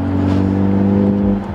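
A BMW F30 sedan drives home from a car wash, its engine and road noise forming a loud, steady drone heard from inside, with no talk.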